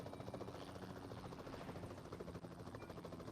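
Helicopter in the battle royale game PUBG, a steady, fairly quiet rhythmic rotor thump with engine drone, continuous throughout.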